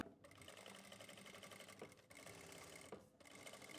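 A sewing machine runs a continuous stitching line through buckram attached to the neckline of a panel kurti. The needle chatters steadily and close up, with two brief pauses, and no voice is heard.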